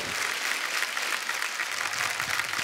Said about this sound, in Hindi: पर खैर बादशाह बाजी के लिए जोरदार तालियां.